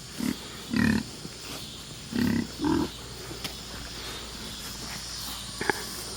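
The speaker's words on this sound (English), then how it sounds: "so he doesn't aggravate the piggies at feed time" Pigs grunt and snort at feeding time on a farm, with several short, close grunts in the first few seconds and then quieter barnyard ambience with faint shuffling.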